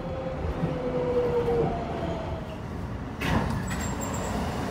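A New York subway 4 train to Woodlawn rumbles along the track between Nevins Street and Borough Hall, a steady loud roar with a faint tonal whine early on and a brief clatter near the end.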